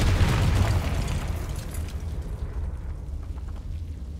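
A Confringo fire-blasting spell from Hogwarts Legacy erupts in one loud, booming explosion that rumbles on and slowly fades with no voices over it.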